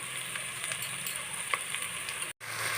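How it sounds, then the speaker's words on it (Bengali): Chinigura rice fries with onion and garlic for tehari, giving a steady close sizzle with soft stirring scrapes. A brief silent break comes before it resumes. "চিনি গুঁড়া চাল দিয়ে আর ভালোভাবে মিশিয়ে চালগুলো একটু সময় নিয়ে ভেজে নেব"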